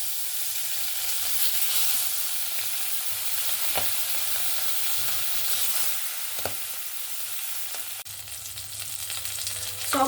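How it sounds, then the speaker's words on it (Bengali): Fish sizzling as it fries in hot oil in a pan, a steady bright crackling hiss with a few small pops throughout, close and continuous with no talking. "বাদ বাকি মাছগুলো সেম পদ্ধতিতে ভেজে নেব।"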